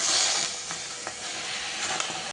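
Tomatoes fry in oil in a kadai for a traditional tomato pachadi, a bright continuous sizzle up close that fades slightly after the first moment and carries faint stirring scrapes, with no speech.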